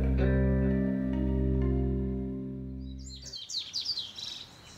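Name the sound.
rooster crowing and birds chirping at dawn, cartoon effect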